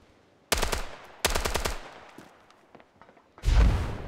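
Bursts of automatic gunfire from a Standoff 2 shooter match: two rapid rattling volleys, then scattered single shots and a final heavy burst, loud with no talk over them.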